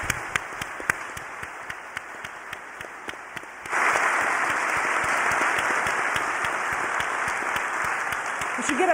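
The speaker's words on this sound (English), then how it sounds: "Let's give another round of applause to our two distinguished guests." Audience at a university forum applauds two distinguished guests: scattered claps at first, then swelling into sustained, dense applause that carries steadily to the end.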